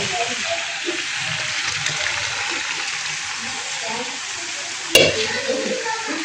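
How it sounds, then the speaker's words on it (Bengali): Chicken meat goes into frying spice masala in a pan and is stirred, giving a soft, steady sizzle with scraping stirs and a sharp clatter near the end. "এখন হচ্ছে আমি এই যে মাংস এখন এই মশলার ভিতরে দিয়ে দেবো।"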